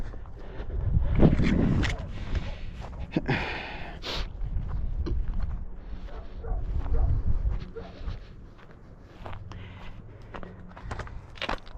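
Dogs barking somewhere near a mountain road through open countryside, scattered barks and whimpers over footsteps and rustling, fairly distant.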